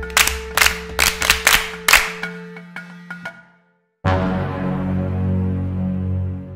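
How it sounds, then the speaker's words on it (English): A classroom of pupils claps in several quick bursts that thin out and stop, followed after a brief silence by a loud sustained tonal musical sting. "Clap for yourselves."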